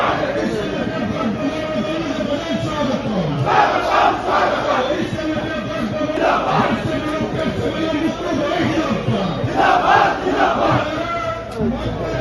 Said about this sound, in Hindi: भुवनेश्वर में हवाई अड्डे के बाहर स्वागत के लिए जमा भीड़ का नज़ारा है।